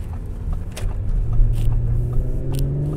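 A 2018 Audi S4 Premium Plus pulls hard under acceleration, its engine a loud, steady low rumble that climbs in pitch over three seconds, heard up close with no voices.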